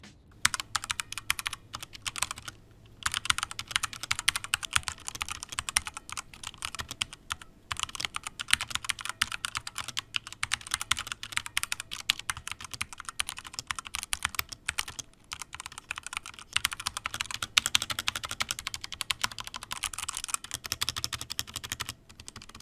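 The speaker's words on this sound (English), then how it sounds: "I taped up some PCB and, well, you tell me if you hear a difference" Steady, fast typing on a Redragon K552 mechanical keyboard with tape applied to the PCB, dense clacky keystrokes heard up close for over twenty seconds with no voices.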